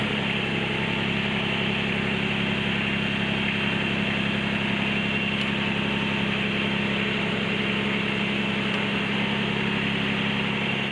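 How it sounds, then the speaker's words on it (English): An LS MT125 compact tractor engine runs steadily throughout, a continuous close, loud mid-to-low rumble with no talking. "I'm going to back the tractor away first"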